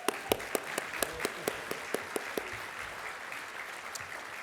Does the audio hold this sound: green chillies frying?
no